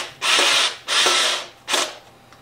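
A manual Phillips screwdriver drives wood screws into a door hinge jig template, giving three separate rasping, ratcheting bursts at close range, each lasting about half a second, with no talking.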